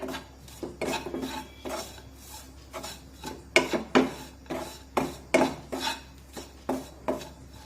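Finely chopped tomato being sautéed in a pan, with repeated scraping and rasping strokes of a spatula against the pan, a rhythmic series of close, distinct scrapes over a quiet background.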